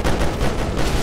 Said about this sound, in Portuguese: Tanto tiro, cara.